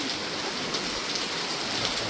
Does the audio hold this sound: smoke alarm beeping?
no